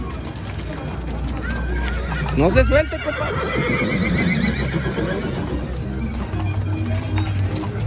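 Horses neigh and whinny loudly at a cavalcade for the 197th anniversary of Dr. Arroyo, Nuevo León, with a sharp whinny rising above steady crowd noise and hoof clatter while people talk nearby.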